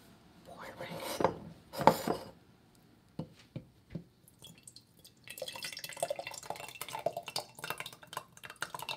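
Liquid is poured into a container in a kitchen, with a few short splashy bursts early on, a handful of soft clinks, then a longer stretch of trickling and rustling close by.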